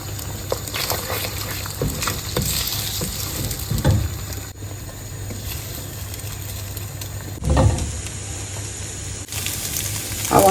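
Eggs frying in a pan for bacon-egg fried rice give off a steady broadband sizzle, with a few louder scrapes and clinks of a utensil. No one speaks.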